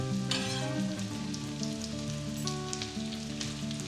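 Finely chopped ginger and onion frying in hot oil for homemade samosa filling, a steady close sizzle throughout with a pan clatter near the start, no voices.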